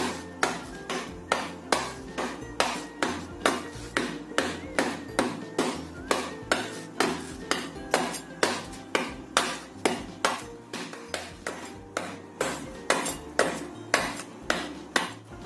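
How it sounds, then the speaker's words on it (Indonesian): Palm sugar being chopped into small pieces, a steady rhythm of sharp, close knife strikes on a board, about two per second, continuing without pause and with no voices. "Ini kita cincang kecil-kecil supaya cepat larut pas direbus nanti."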